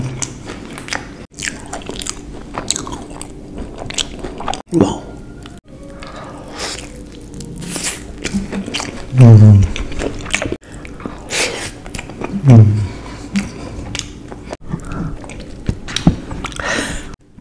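Close, crisp biting and wet chewing of chocolate momos, repeated bites and squishy mouth sounds in an irregular rhythm, loud and intimate.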